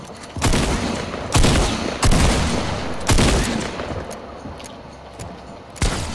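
Gunfire in a 1v1 video game match: four or five loud, sharp shots ring out at uneven intervals, then a last report near the end, each with a short decaying tail.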